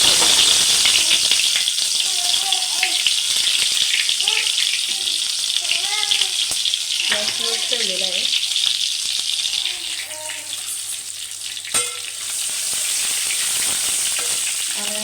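Ginger-garlic paste sizzling and frying in hot oil in a pan on the stove, a steady loud hiss throughout with stirring, while someone talks over it.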